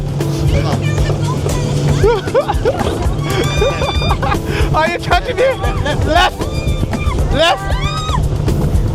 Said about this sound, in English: Listen to the boat.